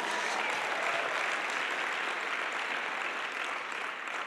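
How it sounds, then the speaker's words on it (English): A seminar audience applauds themselves at a motivational talk, a steady, dense wash of many hands clapping that stays loud and even throughout without pause. "And give yourselves a round of applause for being here."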